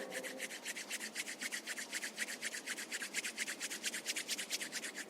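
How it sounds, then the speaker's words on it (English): Palms rub briskly together during a yoga class, a dry, close swishing that repeats in a fast, even rhythm of around thirty strokes over five seconds, with no talking. "Rub your palms together."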